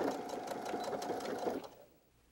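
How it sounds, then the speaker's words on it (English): A sewing machine stitches fabric for a quilted train case with a steady, close, whirring hum and fast needle patter, then stops abruptly and falls quiet near the end. "sew directly on top of the previous stitching"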